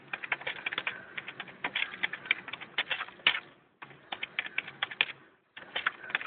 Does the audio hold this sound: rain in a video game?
no